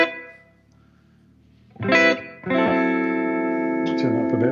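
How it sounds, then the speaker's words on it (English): A clean electric guitar rings out a short note, then a sustained chord with a reverb tail, played alone at moderate volume. "So we've just got some reverb, and this is my amp clean."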